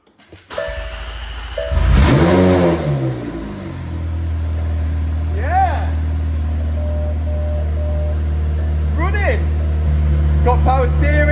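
A McLaren 720S engine under repair cranks and fires, rumbles up loudly, then settles into a steady idle with a few short blips, heard up close with people talking over it.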